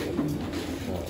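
Pigeons coo in a large loft, a short low murmuring burst heard up close against steady background noise.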